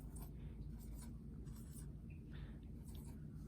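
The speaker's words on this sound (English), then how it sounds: "I'm gonna draw this on my piece of paper." A pen or pencil scratches across a sheet of paper while drawing, soft intermittent strokes close to the microphone over a low steady rumble, quiet and without talking.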